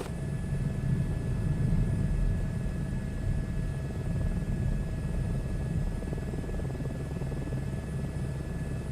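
Helicopter in Microsoft Flight Simulator 2024 flying near Arizona, a steady loud rotor and engine drone with constant low rumble and whine, unbroken throughout with no voices.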